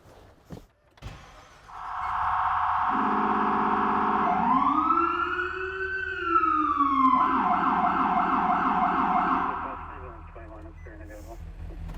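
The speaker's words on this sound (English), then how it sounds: "it's a low frequency output. So if people are listening to music or when they're traveling, it offsets that and makes a really deep growl almost." An emergency truck sounds its low-frequency rumbler siren, a deep growling wail rising and falling alongside a standard electronic siren, loud and close for most of the stretch after a brief start.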